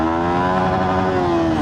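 A Yamaha XSR 155 motorcycle accelerating hard in first gear, a loud, continuous engine drone with its pitch climbing steadily throughout, close and with no talking.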